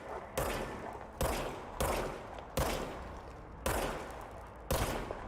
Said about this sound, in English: Hey, we got a gun. Fire service weapon.